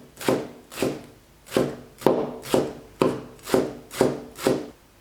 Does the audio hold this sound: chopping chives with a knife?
yes